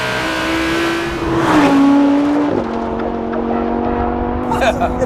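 Lamborghini Huracan LP 610-4 mid-engine supercar accelerating hard out of a corner, its engine note climbing then dropping with a gear change and rising again, loud and close, with a voice talking over it.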